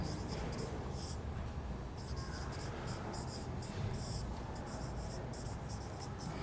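Chalk or marker scratching across a board in a Hindi grammar lesson, a steady run of short strokes with brief pauses, fairly close and continuous over a light background hiss.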